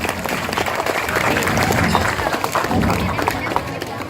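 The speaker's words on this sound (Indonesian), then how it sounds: "Tepuk tangan untuk Benjamin." Audience applause for Benjamin at a Buginese song contest in Wajo, a crowd clapping loudly and steadily for about four seconds, with some voices mixed in.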